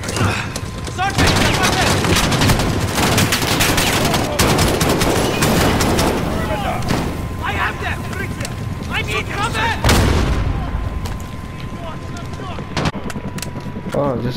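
Dense, sustained gunfire and heavy explosions from a Call of Duty Modern Warfare battle pound almost continuously, loud and close, with shouted in-game voices mixed through the chaos and a brief lull near the end.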